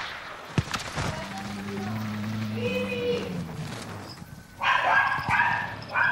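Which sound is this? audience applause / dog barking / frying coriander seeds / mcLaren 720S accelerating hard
dog barking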